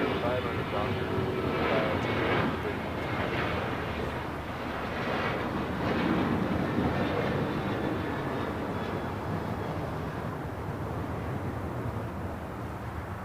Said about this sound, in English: This is American Airlines Flight 2983 taking off to Indianapolis on a 737-800